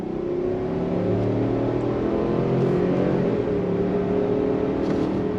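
A 2024 Chevy Suburban with a 5.3 liter V8 accelerates hard on throttle, its engine drone climbing steadily in pitch, heard loud and continuous from inside the cabin without talk.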